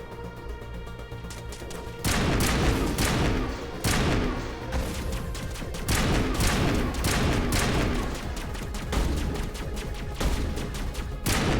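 Sustained gunfire from Mass Effect Legendary Edition, dense rapid bursts of shots with loud impacts and crashes layered over one another, close and loud throughout with no speech.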